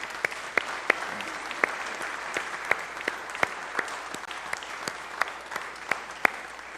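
Steady applause from a small church congregation, a sustained patter of clapping with a few sharper individual claps standing out.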